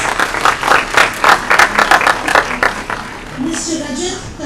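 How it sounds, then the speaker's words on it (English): Audience clapping at a law-school graduation and recognition ceremony comes in rhythmic, moderately loud bursts that thin out toward the end as the hall quiets. "Please give them a huge round of applause."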